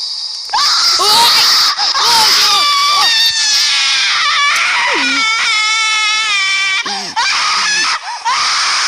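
Loud, shrill screaming with heavy reverb comes from a Teletubbies horror video game, in a run of wailing, rising and falling cries that overlap and echo almost continuously, with only brief gaps.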